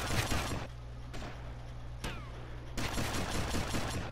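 In GTA Vice City, a shotgun and other gunfire ring out in dense, loud bursts, a sustained volley, a short gap with a low hum and a single sharp shot, then another long barrage.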